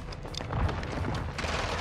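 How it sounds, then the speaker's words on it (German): Gunfire in the Warzone video game, a dense crackle of shots and rumbling booms filling a short burst of game audio. "Schuss!"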